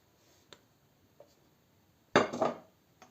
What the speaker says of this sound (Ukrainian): Це все гарно вимішуємо